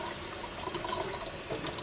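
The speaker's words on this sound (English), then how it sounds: "Run it under the scalding hot water." Hands are rinsed under a running hot water tap at a sink after a lavender sugar and salt scrub, a steady close splashing stream with brief brighter splashes, no speech.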